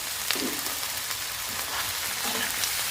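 Curry leaves dropped into hot oil in a pan with ivy gourd give a steady crackling sizzle, dense and continuous with small pops, close by and alone without voices.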